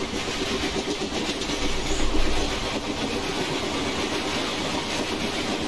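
Freight train locomotive in the Open Rails train simulator, a steady loud rumble with clickety-clack of wheels on rails, continuous and close, no talk.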